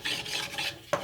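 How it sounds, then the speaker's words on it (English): A straight drawknife blade is rubbed flat on a flat sharpening stone, giving close, rhythmic gritty scraping strokes, about four passes in quick succession. "I'll take a flat stone, flatten the bottom side,"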